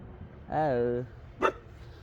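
A dog lets out one drawn-out whining bark, then a short sharp bark a moment later, fairly close, against a quiet background.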